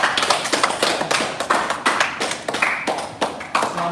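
A group in a kids, teens and adults BJJ/MMA martial arts class claps in a quick, uneven burst of sharp hand claps, close and lively, with no talk over it.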